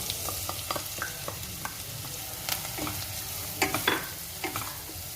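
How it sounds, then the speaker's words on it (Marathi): A garlic and spice mixture fries in a pan for a fried eggplant dish, producing a soft continuous sizzle broken by a series of light scraping stirs and clicks, with no voices. "हे मिश्रण 2 मिनिटं परतून घेऊया."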